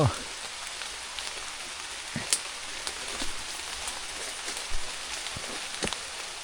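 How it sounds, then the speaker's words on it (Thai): Steady rain falls in a forest, a dense even hiss scattered with brief taps and rustles, with no voices. "ฝนก็ตก"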